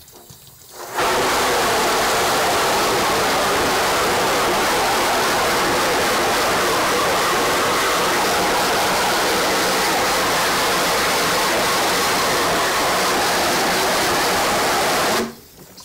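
Hose water spraying steadily against a screen-printing screen, washing away broken-down Ulano orange emulsion; a loud, constant rushing hiss that starts abruptly, runs unbroken, then cuts off at the end.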